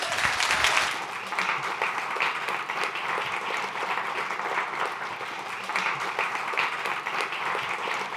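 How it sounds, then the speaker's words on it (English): Lecture audience gives a sustained round of applause for the guest speaker at a talk on homelessness and housing, steady dense clapping throughout at moderate loudness with no talk over it. "If we could give you another warm round of applause."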